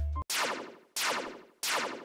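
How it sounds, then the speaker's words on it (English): Three punchy, noisy electronic snare hits designed in Serum, evenly spaced, each with a gritty, distorted body and a smeared, fast-repeating delay tail that fades before the next strike. "I added a snare that I designed using Serum."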